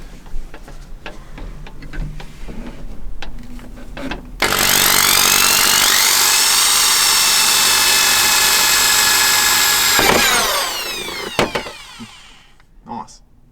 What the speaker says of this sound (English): keep drilling as you pull it back out